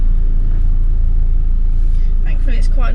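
A Rover P6 2000 Automatic on the move gives a loud, steady low rumble of engine and road noise, with a voice talking briefly near the end.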